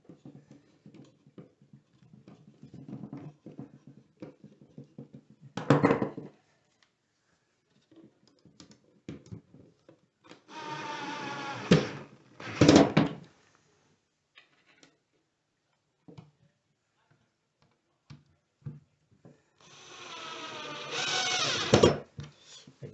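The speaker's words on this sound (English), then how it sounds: "Now if this one's tight, I'm using the drill." A power drill drives screws into a wooden ladder shelf during assembly, in several short whirring bursts of a second or two separated by quieter handling clicks and pauses.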